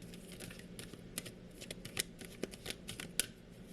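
Tarot cards shuffled by hand, giving quiet, close riffling and a scattered run of soft clicks and snaps with no voices.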